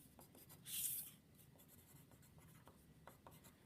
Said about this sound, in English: write your name on the back of both